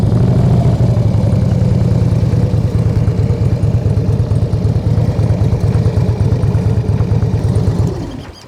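A motorcycle engine runs steadily at low revs while the bike leans through a very tight, slow circle, a loud close throbbing idle-like rumble that fades out at the end.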